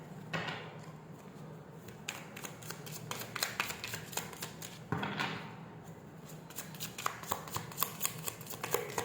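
Tarot cards being shuffled during a Hindi reading, a dense run of riffling flicks and soft slaps repeating over several seconds, close and steady, with no talk.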